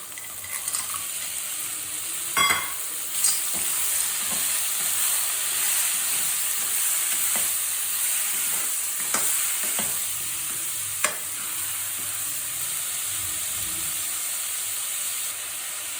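Fenugreek leaves fry in a pan with a steady, even sizzle and hiss. Now and then a utensil scrapes and stirs them. No one speaks.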